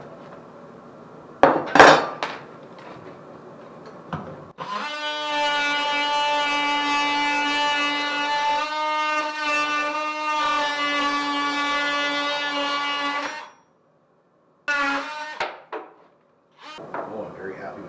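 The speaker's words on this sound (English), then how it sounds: "So I'm going to try the oscillating saw." An oscillating saw cuts through a piece of material in one steady, loud, whining buzz of about nine seconds, preceded and followed by short knocks and handling noises.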